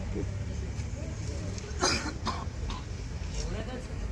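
A single short cough breaks through quiet room tone, close and brief, with faint talking around it.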